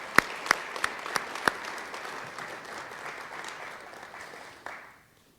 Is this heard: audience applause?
yes